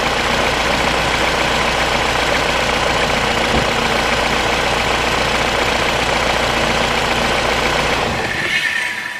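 A 2008 Nissan Versa engine idles with a steady, loud mechanical hum and rattle up close, then is switched off and winds down to quiet near the end.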